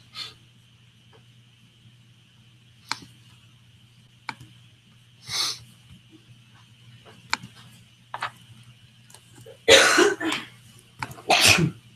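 Several sneezes and coughs in a quiet room with a steady low hum, a couple of faint bursts early then louder sneezes clustered near the end.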